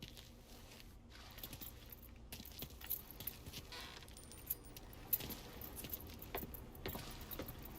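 Keys jangle in the game Mafia 3, with repeated small metallic clinks and rattles scattered across a low background hum, soft and close, without speech.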